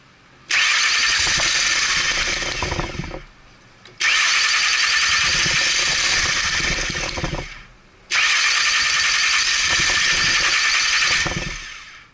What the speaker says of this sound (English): going to crank this thing again.